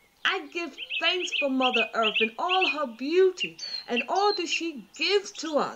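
Birds sing in a relaxing nature soundscape beneath a continuous spoken affirmation, their chirps and tweets faint behind the steady voice.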